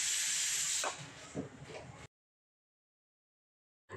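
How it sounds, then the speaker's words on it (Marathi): A pressure cooker of pav bhaji vents steam in a loud, harsh hiss that fades over about two seconds, then falls silent before a brief burst of hiss returns. "आता झाकण लावायचं आणि साधारण कुकरच्या 4 शिट्ट्या घ्यायच्या आहेत"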